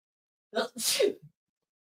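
A single sharp sneeze from a person sits close and loud, with silence around it.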